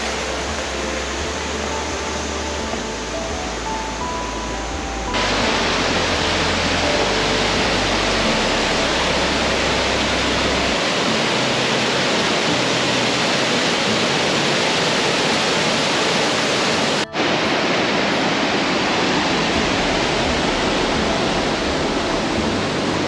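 A large waterfall in a mountain range in India roars continuously, a dense broadband rush of falling water that stays loud and steady throughout.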